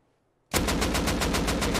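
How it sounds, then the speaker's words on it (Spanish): After a brief silence, rapid automatic gunfire erupts loud and close, a steady stream of shots in the video game Rust continuing to the end. "cuatro balazos y no, y no se ha muerto"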